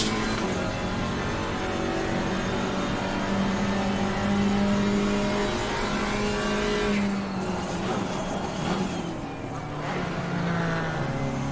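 GT4 race cars in the racing game Assetto Corsa Competizione drone loudly and steadily, engines revving and shifting with other cars close by in a continuous, dense wash of engine noise.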